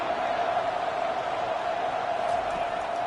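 Steady, dense roar of a stadium crowd in the NCAA 25 college football video game, UCLA versus Florida State, sustained at an even level throughout without distinct cheers or announcer talk.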